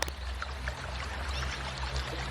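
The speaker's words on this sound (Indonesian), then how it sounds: "ini adalah air diirigasi yang mengalir di sekitar sawah" Irrigation water flows around rice paddy fields, a soft continuous pouring and gurgling rush with faint trickles, steady and fairly quiet throughout.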